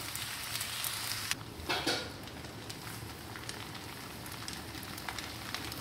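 Mutton and cabbage spring roll filling stir-fried over a full flame, giving a steady close sizzle and crackle, with a brief clatter and louder stirring burst partway through.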